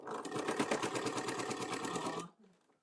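A sewing machine stitches rapidly in a steady mechanical chatter for about two seconds, then stops abruptly, leaving near silence.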